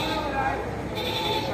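Goat bleating at a livestock market where carabao and cattle are traded, a single wavering call standing out over the steady noise and chatter of the crowd.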